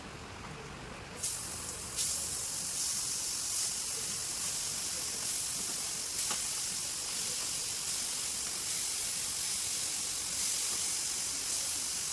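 Small puti fish frying in hot oil, a sudden loud sizzle that breaks out and then holds as a steady spattering hiss, with occasional crackles and no talk.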